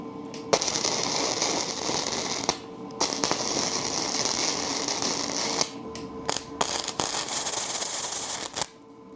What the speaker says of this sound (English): we'll do a plug weld